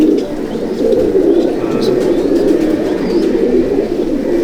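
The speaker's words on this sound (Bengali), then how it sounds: "সুন্দর পায়রা।" Malwai breeder pigeons coo in a loft, a dense chorus of low, overlapping throaty calls running continuously and fairly close, with occasional faint higher chirps above.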